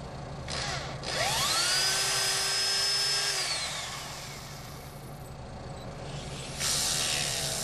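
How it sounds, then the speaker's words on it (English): A high-pitched power drill whines up boring eye holes in a wooden decoy, holds a steady tone for a couple of seconds, then winds down, with a second brief burst near the end. "I do like to drill the holes for the eyes."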